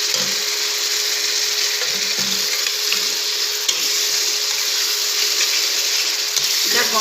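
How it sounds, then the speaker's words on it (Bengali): Chicken pieces frying in hot oil and cooked-down masala give a steady, loud sizzle that runs throughout, with faint stirring clicks. "এবার চিকেনগুলোকে ছেড়ে দেবো।"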